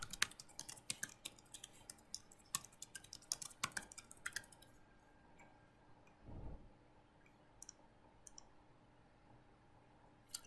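A password goes in on a computer keyboard as rapid, irregular keystroke clicks for a few seconds, close and crisp, then sparse isolated taps over a quiet room hum.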